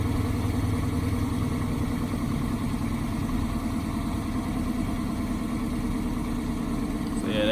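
A straight-piped 2016 Dodge Charger R/T idles close by, its exhaust giving a steady, deep, rumbling burble that stays loud and even throughout.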